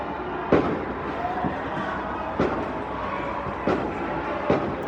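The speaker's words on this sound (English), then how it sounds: "There's like fireworks going off because PSG won." Fireworks and firecrackers burst in a Paris street celebration after a PSG win, heard from indoors through an open window: four distant sharp bangs spaced about two seconds apart over a constant murmur of crowd and traffic.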